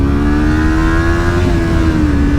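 A 2022 Kawasaki Ninja 400 sport bike holding a loud, close engine note, its steady tone rising slightly and easing off over a couple of seconds, with no talking.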